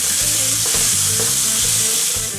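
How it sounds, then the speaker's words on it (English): Onion and garlic stir-frying in olive oil make a loud, continuous hiss and sizzle close by, over a low droning background tone. "we're just going to stir fry these for another, say, 3 to 4 minutes, just until the vegetables soften up a bit"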